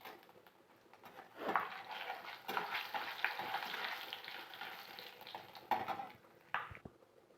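Dried red chilies and five-spice seeds frying in a pan for khichuri, a steady soft sizzle with stirring scrapes and a few louder pan clatters, close and moderately quiet, no talk.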